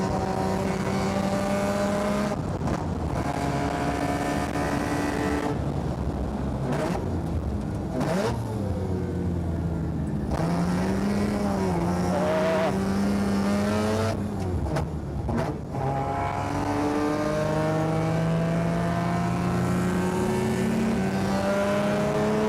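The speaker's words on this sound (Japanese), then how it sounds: "ロータリーサウンドが気持ちいいね。" Mazda Chante kei car fitted with a 13B rotary engine, a tuned RE Amemiya Super Chante on a time attack run, revs loudly and continuously, its rotary note rising and dropping through repeated gear changes with brief dips between pulls, no talk.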